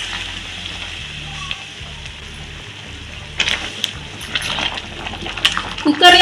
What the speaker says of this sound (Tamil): நான் குக்கரில் வைக்கல, அப்படியே வானல்ல வைக்கிறதுனால கொஞ்சம் தண்ணி கொதிக்க வச்சு ஊற்றிருக்கேன்.